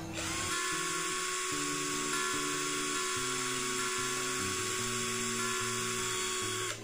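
A Total TDLI12325 12V cordless drill running at its second speed setting, a steady high-pitched motor whine with a buzzing gear hum, close and continuous, with no talk.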